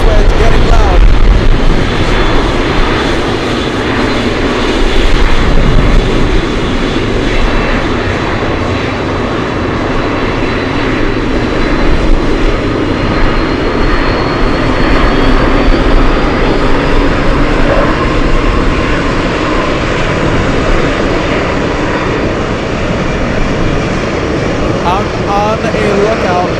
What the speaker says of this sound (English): We have the 777 on Sierra. That's why it's getting loud.